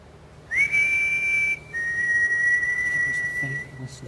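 A single steady, high whistle tone holds for about a second, breaks off briefly, then sustains again for two more seconds, clear and close.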